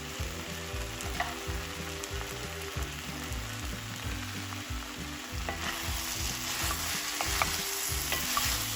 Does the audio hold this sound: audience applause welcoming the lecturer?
no